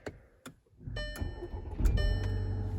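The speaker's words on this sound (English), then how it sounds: "Let me just turn the car on for you guys so you guys can see it all." A 2017 Volkswagen Tiguan starts by push button: a couple of sharp clicks, then the engine cranks and catches into a steady close idle with a whirring hum over it.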